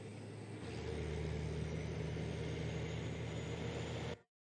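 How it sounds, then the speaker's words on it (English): A truck engine rumbles steadily in a film scene, a loud low drone that swells after the first half second and holds before cutting off abruptly near the end. "Man, that truck moving, ain't it?"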